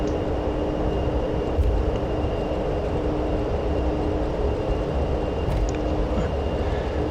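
In a video game, an Avro Vulcan jet bomber's engines howl on takeoff: a loud, continuous roaring drone with a steady howling tone, sustained without breaks and no voices.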